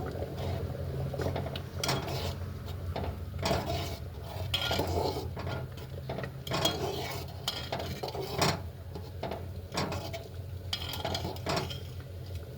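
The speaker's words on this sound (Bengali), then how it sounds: "এবার ভালো করে ঘেঁটে নেড়ে নেব।" Shrimp khichuri is stirred in a pot, thick wet churning and repeated scraping knocks of a spoon against the metal sides in an uneven rhythm, close and moderately loud.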